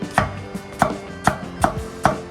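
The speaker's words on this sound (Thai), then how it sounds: "ใช้วันนี้ผมใช้หอมแขกนะครับผมหั่นแบบ" Shallots being sliced on a cutting board for a Thai pork-bone soup, five sharp knife strikes in a steady rhythm, close and clear with no talking.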